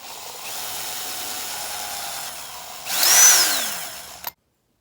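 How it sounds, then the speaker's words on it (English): A small drill bit boring a tiny vent hole into a new off-road mower fuel tank: a steady close whine runs for about four seconds, then rises in pitch and load as the bit bites through the plastic, stopping abruptly. "drill out a teeny tiny hole, and that will allow the fuel tank to vent properly"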